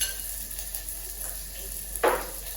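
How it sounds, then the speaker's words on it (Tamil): Onions sauté in oil in a pan for sambar, giving a faint, steady sizzle with a brief louder burst of frying near the end, no speech. "வெங்காயம் நல்லா வதங்கினா தான் சாம்பாருக்கு ஒரு வாசனை கொடுப்பாங்க"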